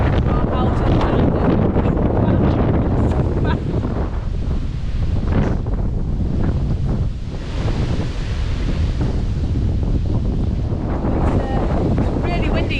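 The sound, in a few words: strong wind of Storm Eunice at narrowboat mooring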